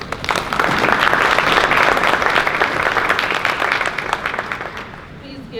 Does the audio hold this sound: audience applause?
yes